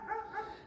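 A dog lets out two short, yelping barks outdoors during a metal-detecting hunt in the UK. Both come close together over a faint background.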